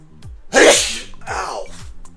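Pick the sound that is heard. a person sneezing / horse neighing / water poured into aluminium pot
a person sneezing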